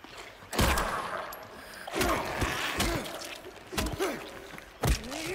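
Several sharp, loud gunshots in the Silent Hill 2 Remake video game, fired singly at uneven intervals with ringing tails between them, and faint breathy sounds in the gaps.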